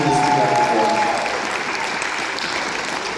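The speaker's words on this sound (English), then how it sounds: "let's give a round of applause to everybody for keeping this together for us" A theater audience claps together in a steady, full round of applause at the Lorain Palace Theater horror event, with a few voices audible at the start.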